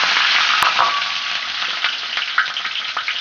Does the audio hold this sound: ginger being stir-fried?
yes